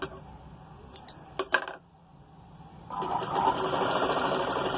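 Sewing machine stitching hangings onto the back of a dress, a few quick clicks and a brief burst, a short pause, then a steady close whirring run of stitches.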